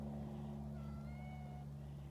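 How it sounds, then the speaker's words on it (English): A barn cat gives one faint, drawn-out meow on a farm, rising thinly over a steady low hum. "Oh, now we got two cats."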